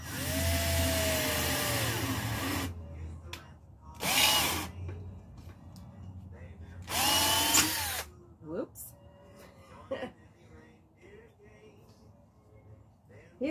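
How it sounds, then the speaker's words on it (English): A power drill drilling pilot holes whirs in three short bursts with pauses between, each spin rising and winding down, with faint scraping and clicks in the gaps. "Just drill in the pilot holes."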